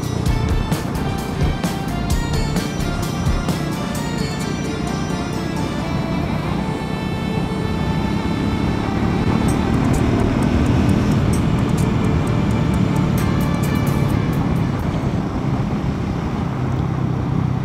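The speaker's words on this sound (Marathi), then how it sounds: "समोरून गाड्या बघा कशाही चालवत आहे तिथे" Steady, loud road traffic roar from inside a moving vehicle on a highway near Kasheri, oncoming cars passing continuously with broadband engine and tyre rumble throughout, no one speaking.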